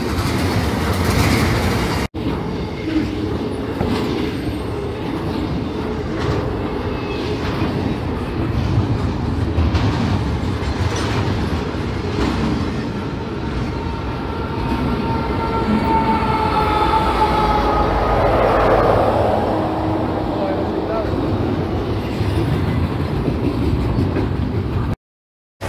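Amtrak 19 passenger train rolls past up close, a loud continuous rumble of wheels and cars with clattering rail joints and a rising squeal toward the end before cutting off.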